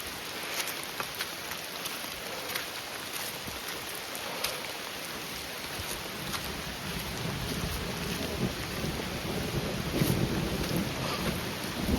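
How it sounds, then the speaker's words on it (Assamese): Rain falls steadily in the forest near Tumjang village below Tumjang Peak, a dense hiss of drops with occasional low thunder rumbling underneath and no voices. "নেচাৰৰ সাউন্ড বৰষুণ অলপ অলপ দি আছে"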